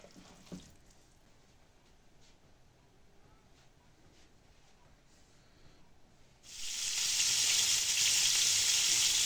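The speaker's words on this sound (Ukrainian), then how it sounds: "Смажимо з обох боків до рум'яної скоринки." A quiet stretch with faint clatter gives way to a sudden loud, steady sizzle of bream fish patties frying in hot oil in a pan that continues to the end.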